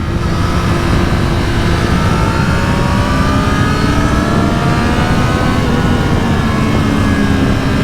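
A 2024 Triumph Street Triple R motorcycle engine runs loud and close, a dense steady drone whose pitch climbs slowly and smoothly throughout, with no one speaking.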